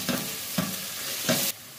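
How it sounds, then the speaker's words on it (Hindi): Ginger-garlic paste sautéed in a pan, with three distinct stirring scrapes and a steady sizzle beneath them. The sound is close and loud, with no voices. "अब इसमें मैं डालूंगी अदरक लहसुन का पेस्ट 1 टेबल स्पून, इसे भी अच्छे से हम सौते कर लेंगे।"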